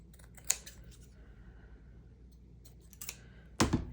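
Scissors trimming a paper scrap for a junk journal page tab, a few sharp crisp snips spaced out over a quiet room, close and distinct, the last cut slightly louder.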